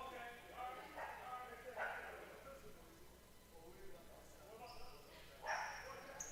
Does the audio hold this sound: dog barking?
yes